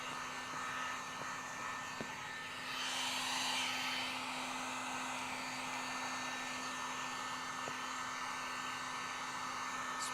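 A heat gun blows hot air across window tint film on a Chrysler 300 windshield, a steady whooshing roar that swells briefly as the nozzle moves closer, then settles back to an even drone.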